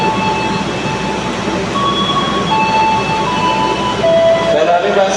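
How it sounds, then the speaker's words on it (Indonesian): The Pasundan passenger train, bound for Bandung, departs a station in Yogyakarta with a loud continuous rumble of wheels and engine and faint tonal squeals, while a voice speaks over it. "Kereta api Pasundan diberangkatkan"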